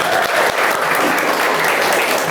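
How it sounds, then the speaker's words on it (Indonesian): A classroom of students at MA Al-Mahrusiyah claps hands together in a loud, dense, continuous burst of applause, steady throughout with no talking. "tepuk tangan"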